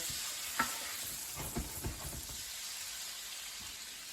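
Butter melts in a pan with a soft, steady sizzle, a wooden spoon scraping and stirring now and then, close and fairly quiet with no talk.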